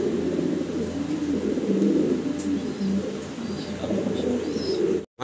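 Fancy pigeons coo in a low, continuous throaty murmur, fairly close and steady, with faint chirps above and a soft rustle that cuts off at the end.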